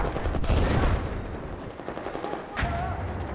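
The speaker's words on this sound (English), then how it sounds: "Ah shit, getting shot at" Bursts of rapid gunfire and sharp shots crackle in a Battlefield video game, loud at first, then more scattered, with a distinct crack near the end.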